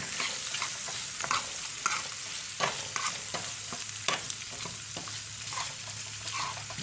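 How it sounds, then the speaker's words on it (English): A spoon stirs lemon butter shrimp pasta sauce in a pan, with a steady bright sizzle and a string of scraping knocks against the pan at irregular intervals, close and fairly loud, with no voices. "Let's stir it around."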